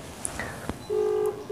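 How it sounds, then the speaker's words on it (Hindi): Phone call ringback tone on an unanswered call: a single steady electronic tone sounds clearly in the second half after a few faint clicks and blips, with no one speaking. "रिंगटोन जा रही है बट"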